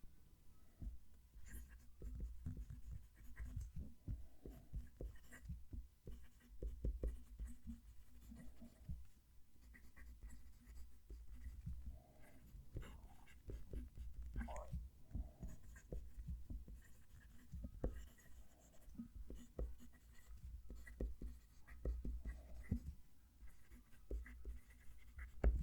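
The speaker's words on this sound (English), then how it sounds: "move the mic down to the page so you can hear each pen writing" Fountain pen writing on paper, with a soft, close scratching and whispery scraping of strokes in an irregular rhythm, quiet and alone.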